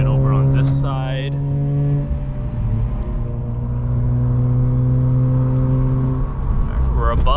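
A car accelerates up to highway speed, its engine and road noise forming a steady drone heard from inside the cabin, with brief sharp tonal sounds at the start and end.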